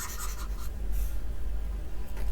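A pen that is barely working scratches across a board in a few quick, close strokes, brief and crisp against a quiet room, with no voice.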